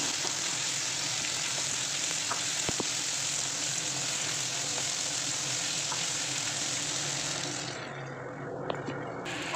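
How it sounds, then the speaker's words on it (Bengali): Onion, garlic, tomato and ginger frying in oil, a steady soft sizzle with occasional faint utensil ticks, continuing evenly throughout. "চলো ভালো করে আমি ভেজে নিই"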